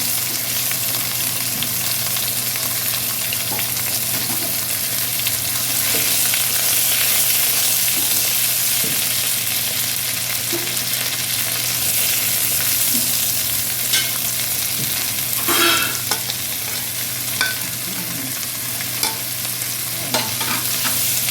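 Spices, onion, garlic, ginger, cinnamon and cardamom fry in a pan with tomato, a steady close sizzle that runs throughout, with occasional stirring scrapes and clinks and no talking.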